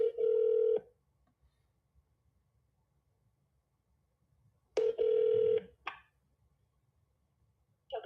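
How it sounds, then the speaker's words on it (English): An outgoing phone call rings repeatedly, with steady electronic ring tones in separate, evenly spaced bursts against a quiet line during a call to a real estate agent. "I'm going to try calling this one here."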